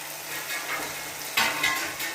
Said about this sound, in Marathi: त्याच्यात हे टमाटा पण टाकून घेऊ आणि याच्यावर झाकण ठेवून याला होऊ देऊ